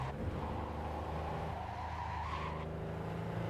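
Car in Cyberpunk 2077 braking poorly and skidding, a loud steady engine roar with a rising tire squeal in the middle that cuts off near the end, no talk.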